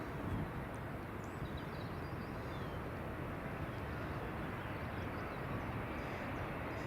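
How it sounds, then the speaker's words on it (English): An EasyJet airliner taxis at Edinburgh Airport, its engines making a steady, distant broadband roar with little variation, faint and continuous throughout. "So we've got another EasyJet that's taxiing out now"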